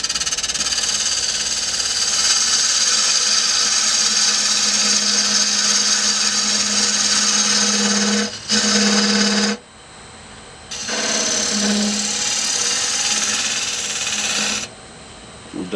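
A wood lathe spinning at about 1,000 RPM while a 1/2 inch spindle gouge cuts a turned wooden urn, giving a loud, steady whirring hiss with a brief pause and a short gap later on.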